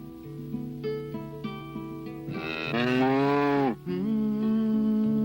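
Cow mooing in a long, loud, drawn-out call that rises and falls, surrounded by sustained tonal background music.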